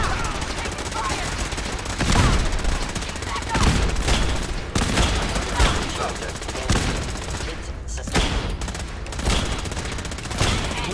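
Rapid, sustained gunfire from Fallout 4 crackles through in dense volleys and bursts, loud and close, with brief lulls between, and a player's voice talks over the shooting.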